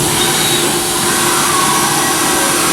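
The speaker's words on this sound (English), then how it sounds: "Cycle start. We're indexing." A Fadal VMC6030D-3HT vertical machining center starts its cycle and indexes, giving off a loud, steady mechanical whir and hum that persists without a break and without speech.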